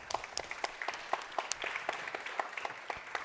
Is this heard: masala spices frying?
no